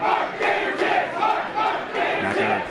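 Crowd at an independent wrestling show in St. Louis chanting in unison, a dense, rhythmic roar of many voices filling the hall, loud and continuous throughout.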